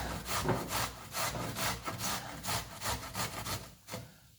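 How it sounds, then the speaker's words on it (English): Courgettes grated by hand on the coarse side of a box grater into a tea towel, giving steady rhythmic rasping strokes, about a dozen in a row, close and fairly loud with no talking. "We'll just grate this"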